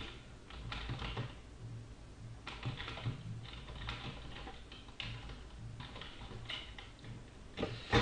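Quiet, rapid clicking of a computer keyboard being typed on, in uneven bursts with short pauses, close by and with no voices.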